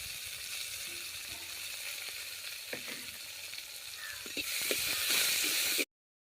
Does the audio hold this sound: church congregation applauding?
no